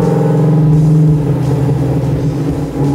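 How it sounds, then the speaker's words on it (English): A deep, throaty 440 big-block V8 in a Plymouth GTX rumbles loudly nearby, revving mildly with a low, lumpy tone. "Boy, this car sounds so healthy. It's a bit throaty."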